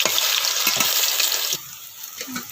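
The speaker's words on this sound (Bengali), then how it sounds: "কড়াতে তেল দিয়ে দিলাম, বড়াগুলো এবার ভেজে নেব।" Pumpkin flower and prawn fritters frying in hot oil in a kadai, giving a steady loud hiss and crackle that drops to a softer sizzle partway through, with no talking.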